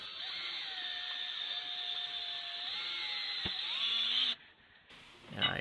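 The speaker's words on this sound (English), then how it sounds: "I used the same method to drill in there." A power drill bores holes into a project enclosure housing for a USB connector, a steady high whine running for about four seconds before cutting off, followed by quieter handling noise.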